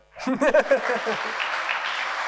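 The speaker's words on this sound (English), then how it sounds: "You can clap." Audience applause at a children's and young adults' book awards ceremony in New Zealand, a short burst of clapping rising after a brief spoken announcement and then holding at a steady, moderate level.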